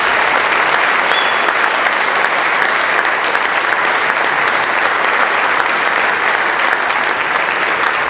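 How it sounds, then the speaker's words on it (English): Steady, loud audience applause at an awards evening for the year's award candidates, continuous and dense throughout with no talk over it. "how about one final round of applause for all our candidates this year?"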